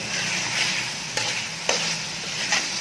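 Aloo gosht meat frying in ghee over high heat, a steady sizzle with a few sharp scrapes of stirring breaking through at intervals, close and continuous with no voices.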